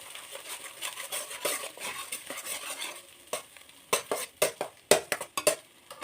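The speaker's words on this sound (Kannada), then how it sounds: "ನೋಡಿ ಈ ಥರ ಮೊಟ್ಟೆನ ಫ್ರೈ ಮಾಡ್ಕೊಂಡಿದ್ದೀನಿ." Eggs fry in a pan with chili powder and salt, a soft sizzle broken by a run of sharp utensil scrapes and clacks that grow louder and quicker toward the end, close by and without talk.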